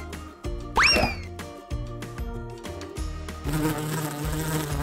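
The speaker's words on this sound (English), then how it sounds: "This giant mosquito will hurt Mommy Long Legs." A giant mosquito in a Roblox animation buzzes with a loud rising and falling whine near the start, set against steady background music with a thick, busy mix.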